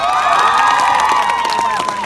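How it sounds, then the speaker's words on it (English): Convention crowd at MCM Manchester Comicon cheering and clapping loudly, with high whoops and shouts riding over a dense, continuous roar of applause close by. "Round of applause for that."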